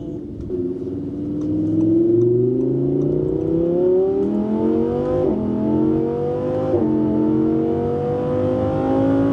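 An Audi R8 4S Performance with a full custom exhaust system, warmed up and set to Dynamic mode, revs repeatedly: the engine note climbs in long rising sweeps with brief dips, loud and close, with no talk.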